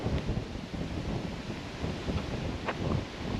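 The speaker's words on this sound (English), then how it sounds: "Man, it is windy." Strong gusting wind by a lake buffets the microphone in low rumbling surges that rise and fall, with a few brief sharper gust peaks and no talking.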